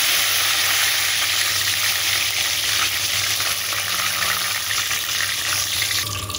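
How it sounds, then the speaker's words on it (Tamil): Curry leaves fry in hot oil left from cooking bitter gourd, a loud, dense, hissing crackle that stays steady and close throughout before easing slightly at the end, with no voices. "அதே எண்ணெயில் கொஞ்சமாக கருவேப்பிலை போட்டுக்கலாம்."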